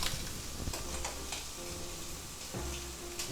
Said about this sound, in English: We'll get a good sear on there and a nice crust.